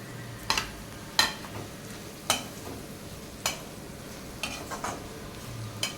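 Vegetables fry in a pan with a light sprinkling of grated coconut, a soft continuous sizzle broken by several sharp scrapes of a spatula stirring at irregular intervals.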